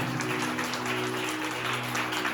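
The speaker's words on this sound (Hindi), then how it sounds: "एक जोरदार ताली बजाएं," A congregation in church claps together, a steady continuous wash of applause that holds evenly for a couple of seconds, with a faint hum beneath it.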